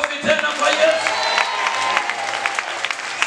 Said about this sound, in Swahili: Ongeza makofi tena kwa Yesu.